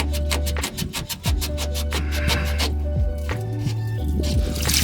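Water gushing and dripping out of a Ford Falcon's coolant system, a steady close splashing stream with wet squishing and gurgling bursts, continuous and fairly loud with no talking over it.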